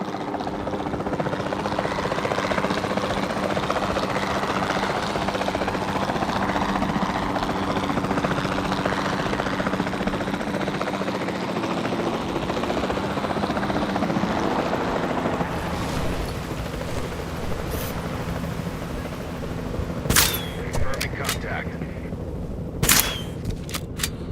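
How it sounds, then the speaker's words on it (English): A capture team helicopter in the dinosaur park game Jurassic World Evolution 2 drones steadily with a broad rotor roar, joined near the end by a few sharp bursts like tranquilizer shots. "Then the sensible thing is to take a capture team helicopter."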